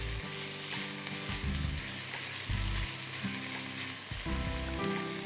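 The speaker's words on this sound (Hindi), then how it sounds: "अदरक लहसुन अलग से चॉप किया हुआ, प्याज और चिकन के साथ इसको हम सौते करते हैं।" Chicken sautéing with chopped onion, ginger, garlic and crushed black pepper, a constant loud sizzle with rhythmic stirring and spoon scrapes against the pan.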